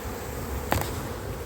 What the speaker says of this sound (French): Il y a les abeilles qui sortent un petit peu partout.